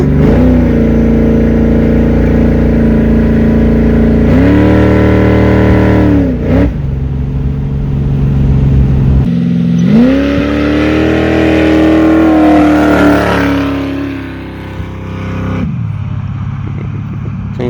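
A 363 stroker Ford Mustang engine revs hard and loud from inside the car, climbing in pitch through the gears with abrupt drops at each shift, a deep, rough roar filling the whole stretch with no talking.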